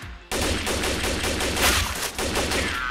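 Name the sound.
gunfire in CS:GO video game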